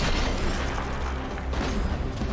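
Heavy gunfire tearing apart a mech in the video game Phantom Brigade, a loud, dense continuous roar of booming shots and impacts with no gaps, filling the whole stretch without talk.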